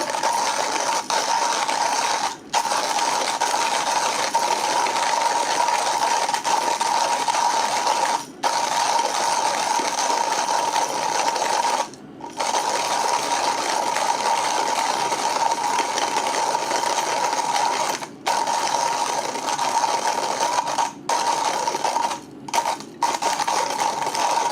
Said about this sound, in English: I'm gonna start the grind.